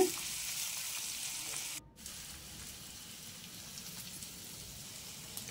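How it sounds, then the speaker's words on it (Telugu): Chopped onions sizzle in a little hot oil in a pan, a soft crackling fry after a brief loud start, then a quiet steady hiss with faint pops. "ఇందులోకి కొద్దిగా ఆయిల్ పోసుకొని ఆయిల్ హీట్ ఎక్కాక కట్ చేసి పెట్టుకున్న ఆనియన్స్"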